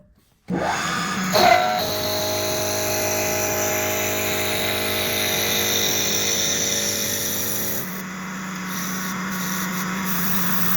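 Power-fed cutting knife on a lathe-style setup squares a wooden dowel for a wooden globe build, a steady close motor whine with a brief louder bump near the start and a shift in pitch toward the end.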